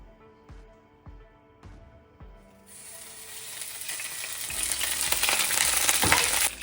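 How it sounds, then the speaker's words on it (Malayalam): Curry leaves drop into hot coconut oil in a pan for a Kerala cabbage mezhukkuvaratti, and a loud, steady sizzle rises after a few light taps and clinks, then keeps crackling close up. "അതിലോട്ട് നമുക്ക് കറിവേപ്പില ഇട്ട് കൊടുക്കാം."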